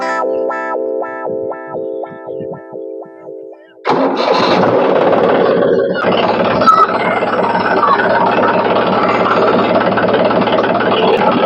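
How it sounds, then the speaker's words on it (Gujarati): Tractor engine on a farm in a village, a loud engine that kicks in abruptly after a few seconds of rhythmic pulsing tones, then runs in a steady rough idle close by. "અરે હજુ ટ્રેક્ટર ખેતરમાં લઈ જાઓ"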